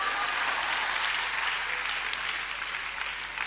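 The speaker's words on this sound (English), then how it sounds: "You better clap because it's the truth." Steady audience applause, a dense wash of clapping that holds at an even level throughout.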